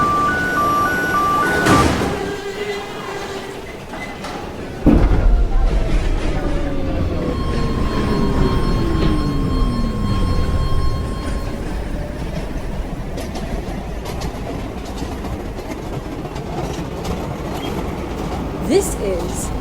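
An F subway train on the shuttle line pulls away after its doors close, a loud chime and door thump followed by a rising motor whine and rumbling wheels that build steadily, with an announcement voice heard briefly.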